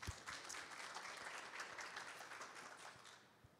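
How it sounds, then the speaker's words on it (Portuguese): An audience applauds at a talk event, a steady patter of many hands clapping that holds for a few seconds and begins to thin out toward the end, with no voices. "uma salva de palmas para a Unimed aí"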